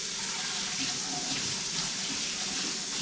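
Tap water runs into a sink to rinse canned vegetables, a steady, close hiss and splash that continues evenly throughout without a break.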